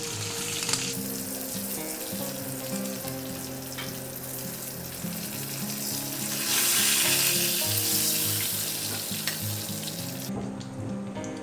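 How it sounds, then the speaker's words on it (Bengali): Fish frying in hot oil in a pan while cooking fish curry with potato and pointed gourd, giving a steady, loud sizzle that swells briefly in the middle; no voices. "মাছটা ভাজা হয়ে গেছে, এবার তুলে নিচ্ছি।"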